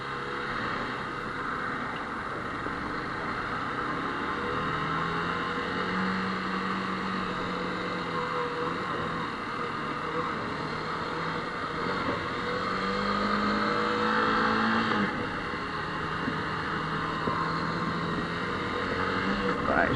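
A motorbike engine on a national speed limit road, heard from the rider's position as it pulls up through the gears with rising and falling revs under steady wind noise, while someone talks over it.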